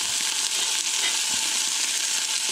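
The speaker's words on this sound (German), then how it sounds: "Die habe ich gepult und die brate ich" Three peeled, previously frozen shrimp frying in hot fat in a pan until they turn red, giving a steady, even sizzle that carries through the whole moment with no voices.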